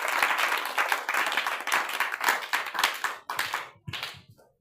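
A church congregation at a Sunday service applauds to acclaim Jesus Christ: dense, loud clapping from many hands goes on for several seconds, then breaks into scattered claps and tapers off.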